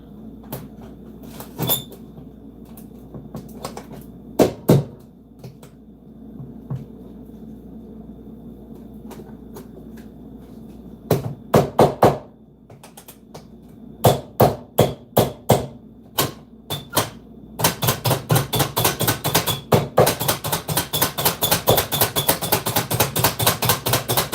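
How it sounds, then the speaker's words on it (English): A vegetable cutter chopping fajita vegetables in a home kitchen: scattered sharp knocks and clacks early on, then a fast, steady run of loud repeated chopping strikes near the end. "But for this, I'm going to use my vegetable cutter."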